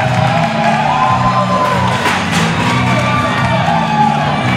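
A hardcore wrestling match crowd cheers and whoops loudly as a wrestler makes his entrance, a dense continuous roar of shouts and yells from many voices throughout.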